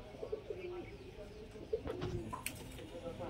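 Najra pigeons coo in a loft in soft, repeated low calls close by, with a few brief rustles and faint background murmur between them.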